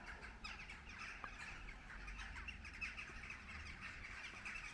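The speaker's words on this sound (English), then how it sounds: "Every night about 9 o'clock," Birds from a large evening flock call faintly and far off, with scattered chirps over a steady low background rumble.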